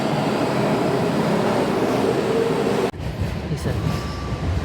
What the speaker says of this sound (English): the train arrived and I went back towards Franklin Square